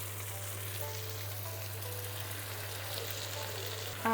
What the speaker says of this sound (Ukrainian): Беремо фарш і додаємо, щоб воно обсмажилось.